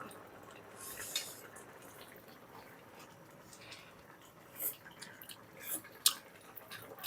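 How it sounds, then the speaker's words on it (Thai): Quiet scraping and clinking of a utensil stirring bamboo shoot curry in a pan, with faint sizzling and occasional sharper metallic taps. "คนแนนนิดนึงเนี่ยมันติดกระทะค่ะ"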